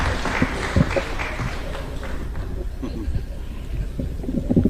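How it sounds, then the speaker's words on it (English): A crowd applauds steadily at a formal government gathering in Kenya, welcoming President Ruto to address the launch of the Kenya Urban Support Programme. Dense, continuous clapping fills the hall, with a few voices faintly audible beneath it. "Allow an applause to receive His Excellency to address the gathering."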